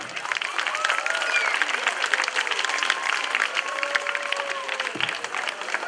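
An audience in Bucharest applauds an ensemble after a Jewish folk performance, dense steady clapping from a large crowd lasting throughout, with a voice sounding briefly over it.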